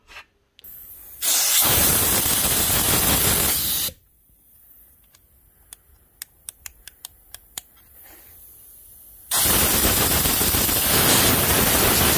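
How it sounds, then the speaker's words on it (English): Compressed air and contact cleaner spray are blasted into the rocker switch of a DeWalt cordless tool. Two long, loud, close hissing bursts are separated by a quieter gap holding a run of sharp switch clicks. "Give this a blast with a compressor, get whatever dust inside this rocker switch out"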